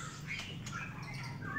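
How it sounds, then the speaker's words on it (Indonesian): Magpie robins (murai) give brief, scattered chirps and squawks at a bird market in Semarang. The calls are fairly faint over a steady background murmur. "Ini murai-murai semua nih"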